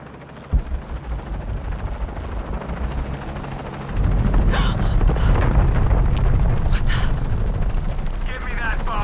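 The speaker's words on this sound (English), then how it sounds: "I'm in a chopper." A helicopter in the video game Shadow of the Tomb Raider roars with a constant heavy rotor rumble that swells louder partway through, while a character speaks over the noise.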